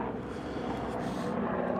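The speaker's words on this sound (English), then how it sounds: "They got the helicopter out." A helicopter flies overhead, a broad, steady low rumble with a rough churning texture that stays constant throughout, fairly faint and distant-sounding, with no speech.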